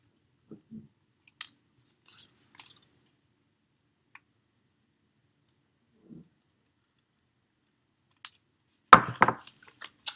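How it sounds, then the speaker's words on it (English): Scissors trimming excess paper along a line on a punch art Easter bunny card, heard as a few sparse, quiet snips and clicks with long silences between and a louder cluster of cuts near the end. "just go behind here and follow the line and just trim that extra off"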